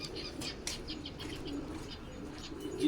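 Racing pigeons at a rooftop loft coo softly and flap their wings in short bursts, with scattered chirps at close range over a quiet background.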